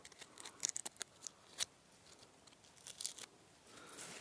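A knife cuts into tree bark outdoors, giving faint, sharp scraping crackles and snaps in an irregular series, close but quiet.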